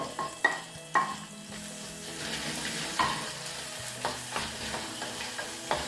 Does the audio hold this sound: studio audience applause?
no